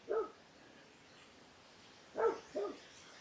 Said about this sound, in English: The dogs decided to go crazy.